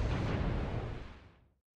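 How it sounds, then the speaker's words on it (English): An artillery strike in MechWarrior Online, a loud booming explosive rumble that holds for about a second and a half before dying away into silence. "Artillery strike."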